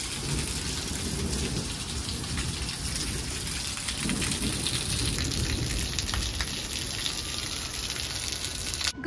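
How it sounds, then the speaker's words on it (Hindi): Heavy morning rain pours steadily in a garden, a dense, constant hiss of drops on surfaces with no voices and a slight swell near the end. "आज देखिए सुबह सुबह ही बहुत बढ़िया बारिश लग गई है"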